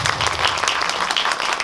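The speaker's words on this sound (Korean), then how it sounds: "박수 한번 부탁드릴게요." A theater audience at a post-screening guest talk for a Korean film breaks into steady, dense applause, many hands clapping together at close range with no voices on top.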